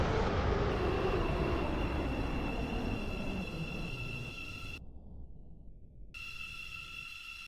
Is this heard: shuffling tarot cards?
no